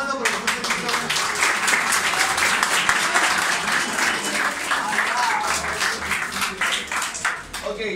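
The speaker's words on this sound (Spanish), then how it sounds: "Un aplauso, profesor Semito." Energetic applause with rhythmic clapping for a professor among a group, loud and continuous for the whole stretch, with voices mixed in.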